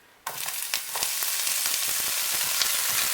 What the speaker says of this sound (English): after putting your oil in the frying pan, add your onions